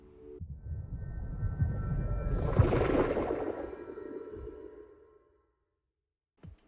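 Minecraft cave ambience with underwater distortion: an eerie, muffled drone that swells and fades with a whooshing, watery distortion, then near-silence and a faint brief thud at the end.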